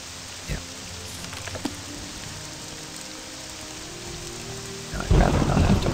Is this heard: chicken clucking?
no